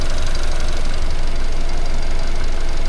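A worn used car engine running steadily in a loud, continuous drone with a rough knocking texture, close up and without voices.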